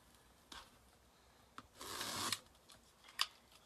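Scissors cutting mesh for a wreath, a few short crisp snips and one longer rasping cut, faint and close in a quiet room.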